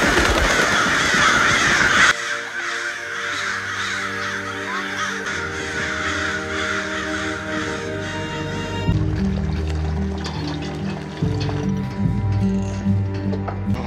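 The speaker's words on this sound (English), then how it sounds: "Scaring the birds away." Crows cawing repeatedly, harsh calls ringing out close and loud over a steady tonal background, several birds overlapping in irregular bursts.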